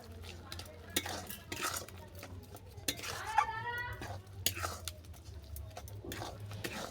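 A spoon stirs radish sandesh mixture with sugar in a pan, repeated scraping and clinking strokes against the metal, close and fairly quiet, with a faint low hum underneath.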